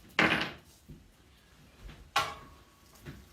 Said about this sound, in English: So I'm just going to knock this cable off.